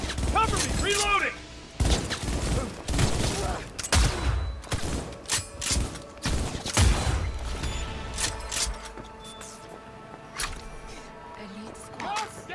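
Scattered gunshots and bursts during a firefight in the video game Cyberpunk 2077, irregular cracks at middle distance mixed with mechanical clatter and some voices underneath.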